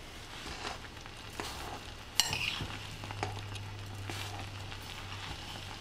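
Sesame seeds being stirred into a chikki mixture in a pan over a low flame, soft scraping and light sizzling with a sharp clack of the utensil against the pan and a low steady hum beneath.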